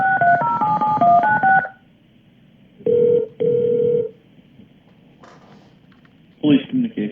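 Touch-tone dialing beeps as a 911 dispatcher transfers an intruder call to police: a quick run of DTMF keypad tones, then two longer ringing tones, and a voice briefly at the end.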